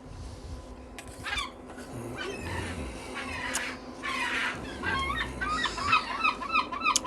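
Seagulls calling at an outdoor seaside cooking spot, with repeated squawking cries of varied pitch, some near and some farther off, over a steady outdoor background and no talking.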